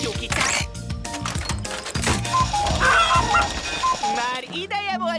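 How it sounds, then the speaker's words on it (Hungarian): Cartoon chicken released in a PAW Patrol episode, busy squawks and clucks near 3 seconds amid music and clattering effects, with a rising cartoonish warble at the end. "Most kiengedjük Tyúkicát"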